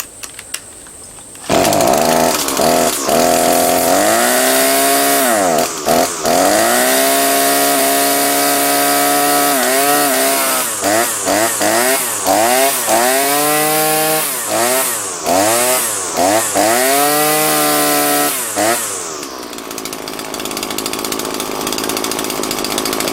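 A mower engine with the choke off starts up loudly and runs with repeated revving surges, holding a steady roar for most of the stretch before dying away near the end.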